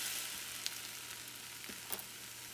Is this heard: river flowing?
no